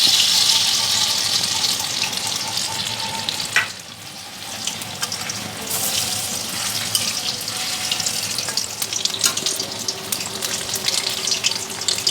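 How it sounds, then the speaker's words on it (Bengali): Pieces of kochu maloti sundori fry one by one in hot oil with a loud, steady sizzle, briefly dipping quieter partway through before bubbling on. "এবার একটা একটা করে ভাজতে শুরু করি।"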